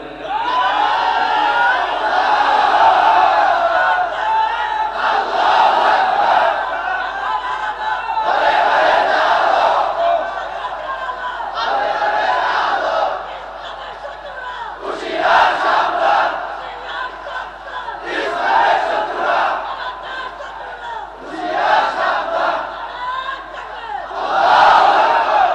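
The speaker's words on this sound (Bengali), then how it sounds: "তাকবীর একটু জোরে দেন তো, নারায়ে তাকবীর জোরে দেন।" A large outdoor religious gathering in Gazipur shouts the Nara-e-Takbir chant in loud, repeated crowd bursts, each swelling and fading in a steady call-and-response rhythm over about half a minute.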